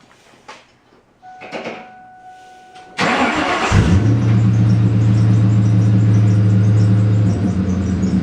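A Ford Mustang fitted with new mufflers but no tailpipes cranks briefly, then catches and settles into a loud, steady, deep rumbling idle close by, with faint handling noises before the start.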